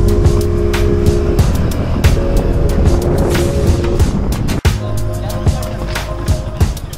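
A vehicle rolls slowly along a potholed road near Kondura beach in Vengurla. It makes a loud, continuous rumble broken by jolting thumps and rattles, with some voices faintly mixed in.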